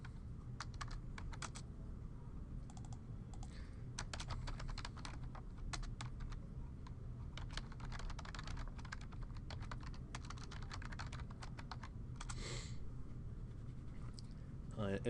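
Rapid clicking keystrokes on a computer keyboard while setting up a render output folder, quiet and close, coming in dense bursts over a faint steady background hum.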